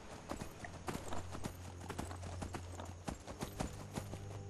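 Horse hooves clip-clopping in the Skyrim video game, a steady rhythmic series of sharp hoof strikes close by with a low hum underneath, fairly quiet overall.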